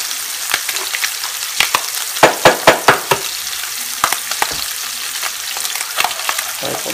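An egg fries in a pan on top of sizzling ham, a steady crackling hiss broken by a run of sharp, close pops and spatters, with no voices.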